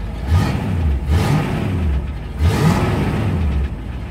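A 1978 Corvette V8 that has sat for a few days, revving in repeated swells from a low rumble, loud and close, with no talking.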